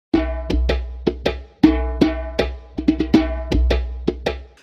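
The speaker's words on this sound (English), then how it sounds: "This is a djembe from Mali." A djembe hand drum from Mali plays a quick rhythmic pattern of ringing bass tones and sharp slaps, repeated about a dozen times in a clean, close sample preview.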